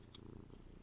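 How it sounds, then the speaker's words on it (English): A cat purrs close by, a soft continuous low rumbling with a steady rhythmic pulse, quiet and alone. "You guys are probably hearing a lot of Luna purring"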